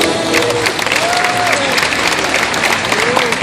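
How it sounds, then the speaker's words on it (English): A studio audience claps steadily through a game show, with a few voices and whoops mixed in and a steady level throughout. "Give another round of applause, folks."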